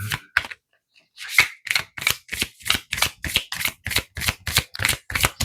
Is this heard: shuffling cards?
yes